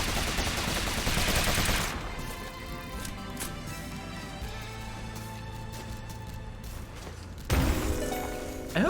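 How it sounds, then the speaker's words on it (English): Gunfire from a gun weapon in the video game Rogue Legacy 2: a burst of rapid shots, then scattered sharp cracks over a busy game soundscape, with a heavy impact and a renewed burst near the end. "I hope I still build combo from those gunshots."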